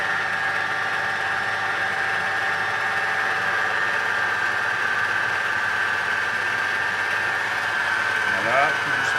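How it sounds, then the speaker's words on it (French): A stand mixer runs at a gentle speed, kneading bread dough as water is poured in: a steady motor whine with a constant tonal hum, close and continuous throughout. "Mon robot en route, pas trop fort."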